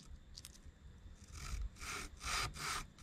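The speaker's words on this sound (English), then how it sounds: "Put this here on the sandpaper." A metal busbar is rubbed back and forth on fine 800 grit sandpaper, several short, quiet scraping strokes close by after a few faint clicks, with no talking.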